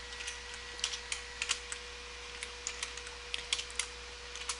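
Fingers tap on a computer keyboard in a run of quick, light, irregular clicks over a faint steady hum, close and fairly quiet, no talk.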